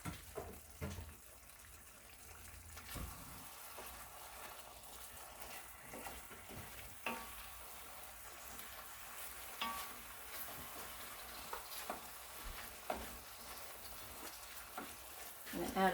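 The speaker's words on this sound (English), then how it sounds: "Okay, so you can continue to stir that up." Stuffed shells filling gets stirred in a pan, a low, continuous sizzle and scrape with scattered clinks of the utensil, fairly faint, with occasional quiet talk underneath.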